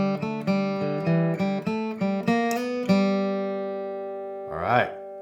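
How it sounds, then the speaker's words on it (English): A quick bluegrass lick is picked on a signature Martin acoustic guitar: a run of crisp, closely spaced plucked notes for about three seconds, then a last note rings out and fades, followed by a brief voice. "All right, lick number 2."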